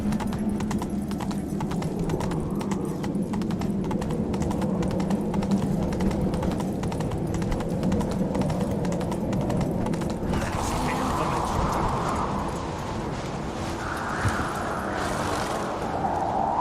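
Horse hooves clip-clop steadily in the Witcher 3 video game as Roach travels, a continuous rhythmic trot with a low game ambience beneath and a brief whinny-like tone late on.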